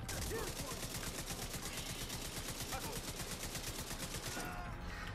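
Rapid automatic gunfire firing shock rounds in The Division 2 video game, a dense, continuous rattle of evenly spaced shots throughout, loud and unbroken until a slight drop near the end.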